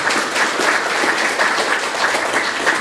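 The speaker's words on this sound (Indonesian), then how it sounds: "Mari kita buat aplaus untuk Bapak Ibu." An audience at an indoor political party gathering claps together in dense, sustained applause, loud and even for the whole stretch with no pauses.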